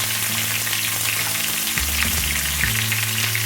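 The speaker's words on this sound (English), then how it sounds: "We're going to drop our steaks in. I'm using sirloins." Sirloin steaks sear in a smoking-hot skillet with a loud, steady hiss and crackle. The sizzle stays continuous and close, with no voices.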